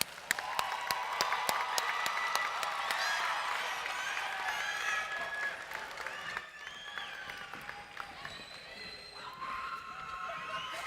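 A convention audience applauds the 2018-2019 student teaching cohort at a state agriculture convention session, steady clapping with some cheers that swells, dips briefly, then continues for about eleven seconds.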